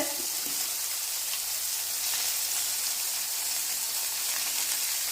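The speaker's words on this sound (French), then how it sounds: "On va laisser encore bien rôtir nos petites boulettes." Homemade meatballs roast in a pan, giving a steady, even sizzle of frying with a faint hiss throughout, close and uninterrupted, with no talk over it.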